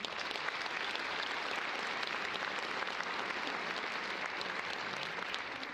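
A large audience at a university commencement ceremony gives a keynote speaker a steady, even round of applause, a distant, dense wash of clapping that holds without a break.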